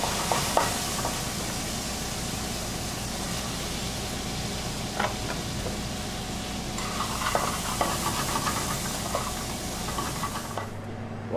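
Bacon and yellow onions frying in olive oil in a sauté pan make a soft, steady sizzle with occasional crackles and stirring scrapes, moderately close and continuous, with no speech.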